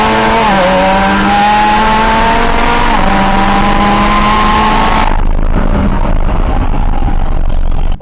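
A tuned McLaren 720S with exhaust and tune drag-races a bolt-on twin-turbo Lamborghini Huracan: a loud, continuous engine roar climbs steadily in pitch, then breaks into a rougher, wind-buffeted rush partway through.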